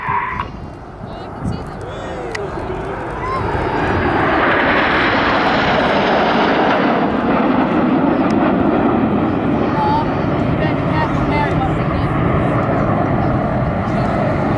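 Red Arrows jet aircraft fly in formation at the Farnborough Airshow 2012, building into a loud, sustained roaring rush that holds steady, with a commentator speaking underneath.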